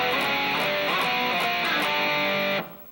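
Heavily distorted electric guitar playing combined higher and lower harmony notes, a dense, sustained melodic phrase heard up close with no talking, ending with a sudden stop.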